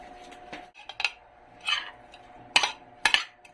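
A mixing bowl being picked up and handled while preparing a filling of tomato, onion, ginger, spring onion and salted egg for stuffed tilapia, several close clinks and knocks spaced irregularly against quiet, with no talking.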